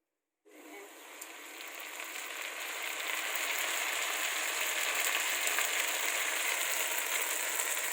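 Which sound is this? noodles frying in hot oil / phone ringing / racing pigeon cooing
noodles frying in hot oil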